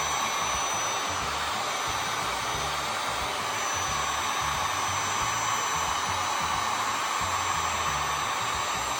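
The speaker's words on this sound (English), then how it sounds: "This one actually has more of a pointed tip you can put on it, which makes it easier to direct where you want the heat to go." A heat gun with a pointed nozzle tip blows hot air onto wood, a continuous loud roaring hiss of fan and airflow, steady and close for the whole stretch.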